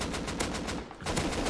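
An AK rifle fires in the survival game Rust in fast automatic bursts, with a short pause after about a second before the rapid shots resume, sounding fairly faint.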